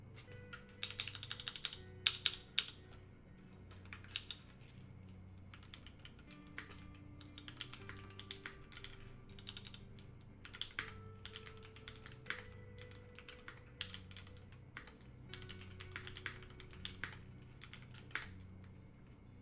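Clacky computer keyboard being typed on in quick, uneven bursts of sharp keystrokes, close and distinct, with brief pauses between runs over a low steady background hum.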